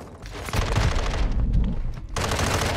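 Automatic gunfire in Modern Warfare 2 comes as a near, continuous rapid burst with a brief dip before firing resumes, loud and without talk.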